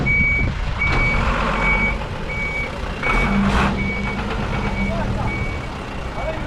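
A delivery truck carrying rebar, cement, concrete, gravel and a wheelbarrow reverses nearby, its steady backup beeper repeating at even intervals over a low engine rumble and passing voices.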